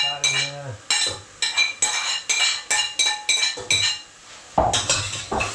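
A metal spoon scrapes and clinks rhythmically against a pot while frozen cauliflower and sweet corn are stirred for a spicy Mexican bean soup, about ten loud, close strokes in steady succession with no talking.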